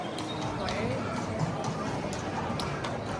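Horse hooves clop steadily on a hard surface beneath constant background noise, with a person talking over it.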